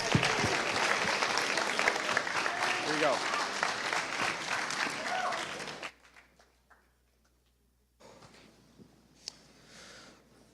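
Audience applause for a student performer at a high school spoken word event, a thick wash of clapping for about six seconds that cuts off abruptly, followed by near silence and a brief spoken phrase.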